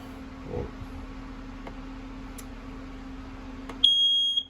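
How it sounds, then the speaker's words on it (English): A quiet hum and faint clicks inside a 2022 Heartland Pioneer 171 SS travel trailer give way to a loud, piercing smoke detector alarm tone that starts abruptly near the end and keeps sounding. "That gal detector will start going off just like a smoke detector would."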